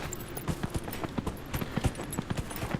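Hooves of a horse in a fantasy video game clip-clop in a steady, even walking rhythm on a path, close and moderately loud, with faint game ambience underneath.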